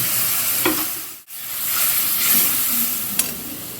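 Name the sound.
spice paste frying in pan for rohu fish curry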